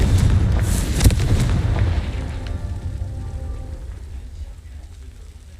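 Confringo explosive spell in the Hogwarts Legacy video game, a loud booming blast with a sharp crack around the first second, then a rumbling decay that fades over several seconds.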